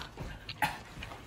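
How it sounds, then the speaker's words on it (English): A happy dog lets out a few quick, close whimpers and yips in a short burst, with one sharper squeak standing out. "It's just a happy dog."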